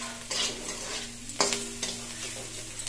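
Onion paste frying with shrimp for a cauliflower and shrimp biryani, a soft steady sizzle with a few sharp stirring scrapes of the spoon against the pot.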